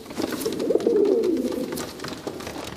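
Pigeons cooing at a fanciers' pigeon club, a soft continuous low warbling coo rising and falling over a couple of seconds, fairly close, with no talk.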